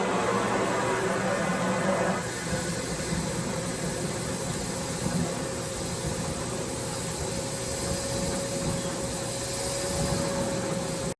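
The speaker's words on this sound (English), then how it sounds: "I'm going to go ahead and vacuum this up" A vacuum roars steadily and loudly throughout, a dense airy rush with a constant motor hum, briefly louder at the start as it sucks up sawdust through a dust separator.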